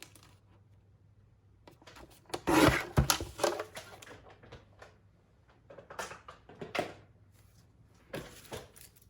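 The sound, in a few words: cutting 12-inch paper sheets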